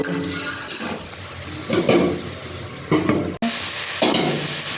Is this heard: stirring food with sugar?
yes